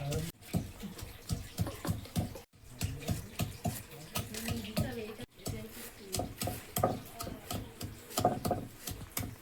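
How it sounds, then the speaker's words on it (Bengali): Ginger and garlic ground on a traditional stone slab in a home kitchen, repeated rough rubbing and scraping strokes with knocks, close, while people talk in the background. "এদিকে আমি আদা রসুনটা ভালো করে শিলে বেটে নিচ্ছি"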